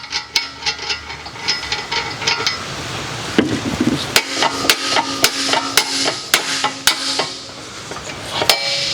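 Repeated metallic hammer blows on a 2011 Honda Accord CV axle nut during a wheel bearing replacement, a dozen or so ringing clanks at an uneven pace, close and sharp.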